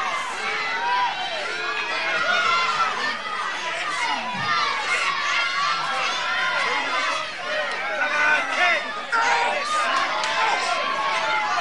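A wrestling crowd fills the hall with steady, loud chatter and children's shouts, a dense roar of many voices that carries on the whole time.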